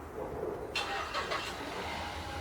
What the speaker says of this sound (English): And as you can hear, it started the car